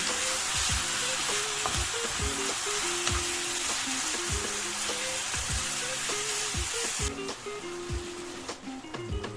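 Ground pork sizzles loudly in a hot pan for Filipino-style spaghetti sauce, a continuous crackling fry broken by repeated scraping and clinking as a utensil stirs the meat against the pan.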